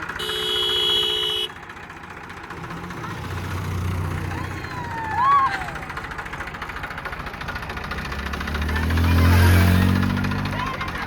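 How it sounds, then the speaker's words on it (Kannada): A tractor engine runs at a steady low idle nearby, a continuous rumble that swells toward the end, with a brief high squeak partway through. "ಇಲ್ಲಿ ಟ್ರ್ಯಾಕ್ಟರ್ನ ಅಡ್ಡ ಹಾಕೊಂಡಿದ್ದಾರೆ ನನ್ನ ಮಗನ ಒಂದು ರೌಂಡ್ ಕರ್ಕೊಂಡು ಹೋಗೋಕ್ಕೆ"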